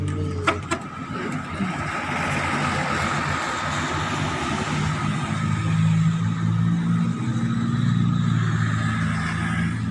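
Buses and traffic on busy Jalan Haji Juanda in Tasikmalaya: a continuous roadside rumble of engines that swells toward the end as heavy vehicles draw near, with no talk.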